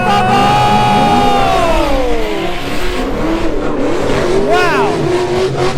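Race cars running bumper to bumper at a drift event, engines roaring loudly and continuously with rising and falling revs, tire noise and a distant crowd, while a commentator talks over the top.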